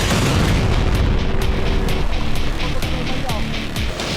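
Ukrainian drone strikes explode against a Russian navy ship, a dense roar of blasts and rumbling booms with sharp repeated impacts, loud and continuous throughout.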